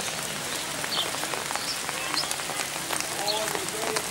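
Steady rain patters on surfaces across an outdoor camp, a dense continuous hiss with scattered drops standing out, while voices talk faintly underneath.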